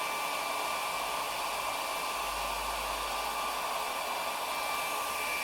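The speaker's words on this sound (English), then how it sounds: "Just got a 10 quid hairdryer that's about 10 years old." An old, cheap hairdryer about ten years old blows hot air for heat before scraping with a Stanley blade, a steady close whooshing roar with a constant motor whine, unbroken throughout and with no speech.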